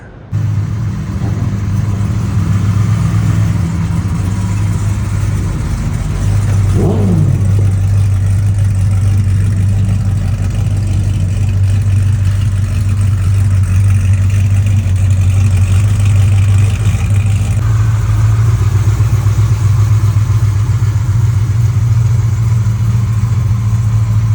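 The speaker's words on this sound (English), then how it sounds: "Maybe one of the loudest cars here. Side exhaust." Custom hot rod truck built by Dave Kindig, fitted with a loud side exhaust, at the SEMA 2023 show: a heavy, steady low rumble holds close by throughout, with a brief shift in engine pitch about a third of the way in.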